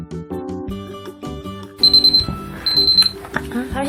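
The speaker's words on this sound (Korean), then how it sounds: "30초 맞춘 타이머를 가져왔고요." A kitchen timer set for thirty seconds rings with high, rapid, repeated beeping in two bursts, sounding over busy, bright background music.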